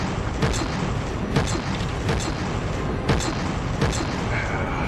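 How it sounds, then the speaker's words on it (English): Cannons fire in the mecha combat game Mecha Knights: Nightmare, a string of booming shots at an uneven pace over dense constant battle noise, with a voice talking throughout. "These cannons are forcing me to actually be semi-accurate."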